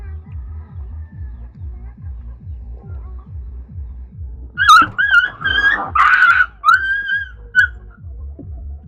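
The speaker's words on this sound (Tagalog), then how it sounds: "Gawa yung mga aso" Several dogs yelp and whine in short, high bursts close by, over a steady low rhythmic thumping.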